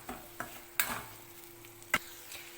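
Curry leaves fried with onion in a pan for ladies finger poriyal are stirred with a spoon, making a few distinct scraping strokes over a light sizzle, close by and without speech.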